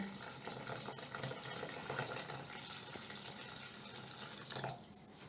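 Liquid pours steadily onto flour in a bowl for several seconds while making bread, a soft continuous splashing with a brief louder gush near the end.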